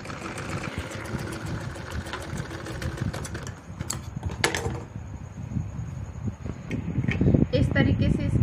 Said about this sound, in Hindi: इस तरीके से इसके ऊपर पूरे में दबाने वाली सिलाई लगा लेंगे